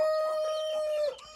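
A rooster on a small poultry farm lets out a single long, loud crow close by, holding a steady tone before it breaks off and fades.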